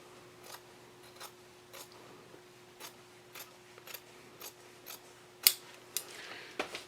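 Scissors trim the edges of a denim pocket lining from upcycled jeans, a string of quick, light snips at a fairly regular pace, close and faint, with a low steady hum underneath.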